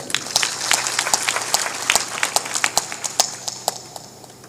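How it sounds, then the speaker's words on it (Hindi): An audience at a Hindu religious discourse claps for a saint, the sparse individual claps sounding sharp and separate, tapering and thinning toward the end. "ताली बजाओ इनके लिए।"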